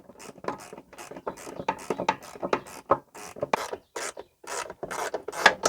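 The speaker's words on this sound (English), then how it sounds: "This is a 10mm wrench." A 10mm wrench tightens a shoulder bolt through plastic on a Toro 22-inch Recycler mower, giving a steady series of close, dry rasping and ratcheting clicks with short pauses, no voice.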